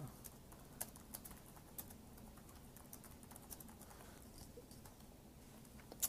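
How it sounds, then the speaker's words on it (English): Fingers tap steadily on a computer keyboard, producing a quiet, irregular patter of light clicks with a few sharper keystrokes over a low room hum. "I'm just gonna sort of type right now"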